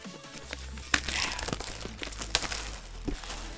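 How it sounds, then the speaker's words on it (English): Cellophane wrap crinkles and tears off a Google Pixel Slate box during unboxing, a busy run of crackling and ripping with a few sharper snaps, close and fairly quiet throughout. "we got it open, or at least the cellophane's off"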